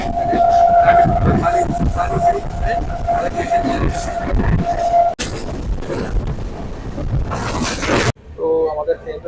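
Duronto Express pulling out of Sealdah on its run to Puri, with a long steady horn tone over rumbling rail noise and station bustle, then carriage clatter, the sound cut short and ending with a brief voice.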